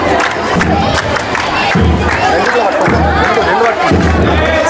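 Crowd cheering and shouting at a school retirement celebration, a loud, steady roar of many voices with rising surges, continuous throughout.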